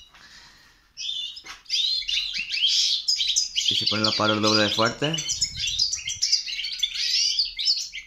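Goldfinches in a breeding cage chirp and sing in quick, bright bursts, close and fairly loud, while someone speaks over them for a few seconds midway.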